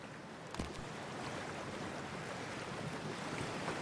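Steady rushing water and surf wash through a Cyberpunk 2077 game scene, a continuous broadband roar of cold sea water with one brief splash near the start and no voices.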